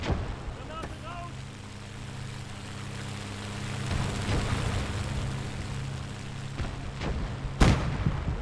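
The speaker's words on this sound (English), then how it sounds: "Granate raus!" Grenade explosion in the Gates of Hell war game, a sharp loud blast near the end standing out from a low engine drone, scattered distant gunfire and faint battlefield rumble, with brief voices earlier.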